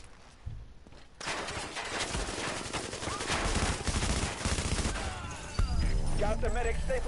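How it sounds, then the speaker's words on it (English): Rapid automatic gunfire in a video game, aimed at a brick wall, rattling on steadily for several seconds after a short quiet opening, with game noise and some talk mixed in. "I want to try to shoot through it"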